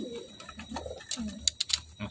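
Pigeons coo softly and close by in a pigeon collection at evening feeding, with a few low murmuring calls and sharp high chirps between them.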